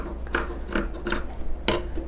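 Scissors snip repeatedly through loosely woven cloth for a zipper pouch, making five or six crisp rasping cuts in a loose rhythm, close by.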